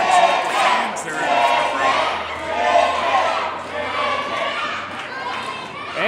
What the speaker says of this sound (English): the crowd's getting the chicken chant back